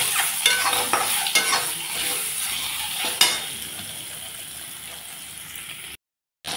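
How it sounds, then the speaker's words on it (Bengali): Steady sizzling of an egg frying in a pan, with a spatula scraping and stirring; the sound runs continuously and cuts off briefly near the end. "এখন আমি ডিমটাকে ভেজে উঠাবো।"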